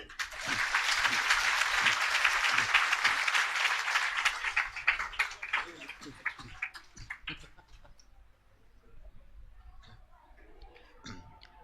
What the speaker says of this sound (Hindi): एक बार जोर से ताली बजाओ